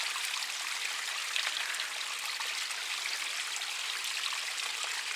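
A mountain stream in Iceland rushes and splashes steadily and close by, a dense, constant hiss of flowing water with no voices.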